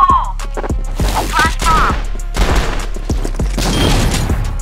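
Rapid burst-mode bursts of video game gunfire crackle and boom over several seconds, loud and dense, with a few voices talking underneath.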